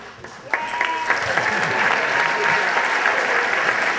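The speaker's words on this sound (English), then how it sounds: "let's have an applause for Randy" Wedding guests at a best man's speech burst into sustained applause that swells and holds steady, dense clapping filling the room with a few voices mixed in.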